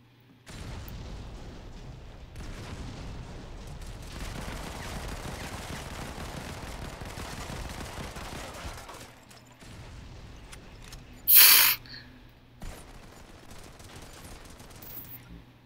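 Sustained heavy gunfire and turret fire from the Modern Combat 5 online shooter, a dense steady barrage for about nine seconds, then quieter scattered shots with one sharp loud burst near the end.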